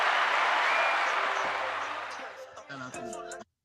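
A round of applause from a live audience, loud and dense at first, then thinning out and tapering off before stopping abruptly, with a few voices over the tail end.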